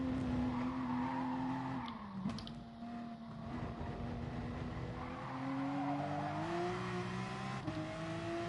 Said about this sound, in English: Bit of a skid, we'll lose the time through there